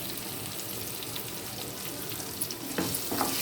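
Sliced onions sizzle in a pan with a little salt and turmeric, being cooked for an amaranth leaf curry. The even frying hiss is heard close, and a couple of sharper stirring knocks come near the end.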